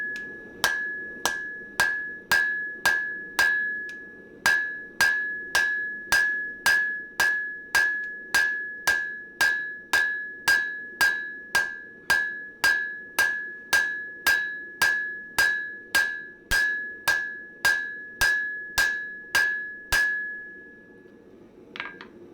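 Hammer blows forging a no-rivet clinker shovel at the anvil, about forty sharp ringing metallic strikes in a steady rhythm, each with a bright bell-like tone, close and loud with no talk.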